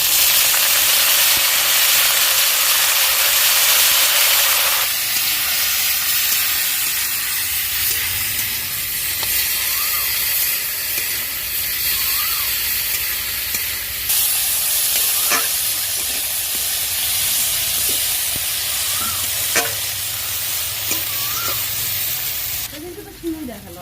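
Leafy greens fry in a pan with fried potatoes, a loud, steady sizzle and hiss that runs throughout, broken by occasional scrapes and taps of stirring.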